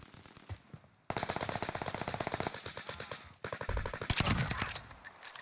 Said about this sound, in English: Here's some shots going on down low.